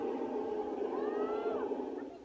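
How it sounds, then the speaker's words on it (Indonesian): An elephant at Gembira Loka Zoo gives a drawn-out, rising and falling tonal call partway through, heard over steady background noise with no talking. "Loh, itu suaranya gajah."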